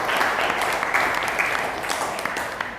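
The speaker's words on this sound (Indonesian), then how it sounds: "Tepuk tangan buat kalian semua" Students clapping together in a classroom, a close, lively burst of many hands with a few sharper individual claps, fading slightly toward the end.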